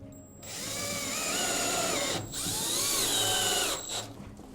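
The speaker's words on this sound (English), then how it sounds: "Again, I'm just putting a little marking hole." A drill fitted with a 5 mm bit runs in reverse to mark a small hole while installing a wall bed, a close steady whine that briefly dips twice in pitch.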